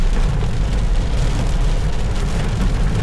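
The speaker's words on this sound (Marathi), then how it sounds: "थोडं खतरनाक पाऊस आहे" Heavy rain drums on a moving car during a highway drive from Solapur toward Goa, a loud, dense, unbroken roar of water and road noise that fills the clip with no talking.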